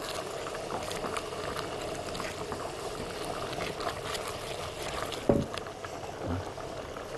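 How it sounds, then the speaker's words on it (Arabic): Hot soup poured over warm Egyptian rice gives a steady, continuous wet hiss of liquid, with a single soft thump partway through. "ننزل كده على الشوربه على الرز بتاعنا اهو بالشكل ده"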